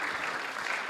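Conference audience clapping for a game developer speaker on stage, a steady dense patter of many hands throughout the short burst, moderately loud and without any voices.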